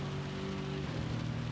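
Rain in a Gran Turismo 7 race forms a steady, dense hiss over a low engine drone whose pitch shifts partway through, loud and continuous with no talking.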